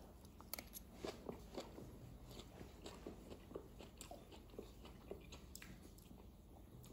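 Crunchy vegetables in black bean sauce being chewed alongside sticky chicken, a steady series of close, crisp bites and crunches repeating through the clip, with no talk.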